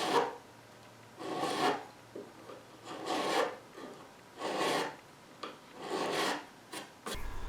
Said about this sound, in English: what we're aiming for is to just have a very thin line of black down the centre of the fret